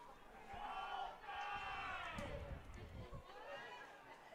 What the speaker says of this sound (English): Big cheer from the Yakima fans.